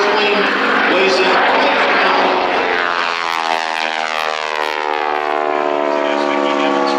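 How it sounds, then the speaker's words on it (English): A Stearman PT-17 biplane with a 450 Pratt & Whitney radial engine roars past in flight, its engine note sliding downward as it recedes. A brief fuel-starved hesitation falls within the passing sound. "You hear that hesitation? The gas quit flowing to the carburetor for just a little bit of a heartbeat right there."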